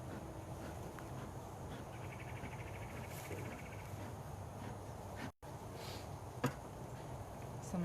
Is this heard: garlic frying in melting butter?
no